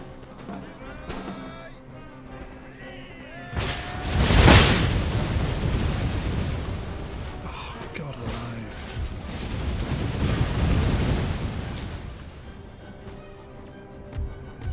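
A musket volley goes off in an Empire Total War battle: a sudden loud booming crash, then a long rumbling roll of scattered shots that swells and fades, over faint background music.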